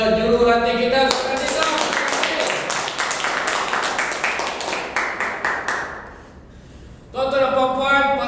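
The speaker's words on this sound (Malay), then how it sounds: "Lagi sekali mari kita berikan satu tepukan kepada jurulatih kita." Audience at a public-speaking club briefing claps in a dense burst of many hands for a few seconds, fading out before a speaker's voice returns; talk is heard at the start and end.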